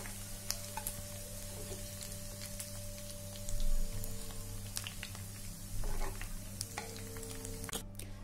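Chicken balls for moti pulao sizzle steadily in hot oil, a continuous close crackle with occasional stirring scrapes and no talk.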